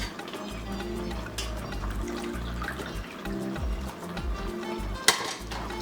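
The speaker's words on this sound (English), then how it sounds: "I am going to add it right now. Basically I'm going to add more water" Water poured into a pot of Ghanaian goat light soup, a gurgling trickle and splash with pot clatter and stirring, close and moderately loud, ending in a sharp clink.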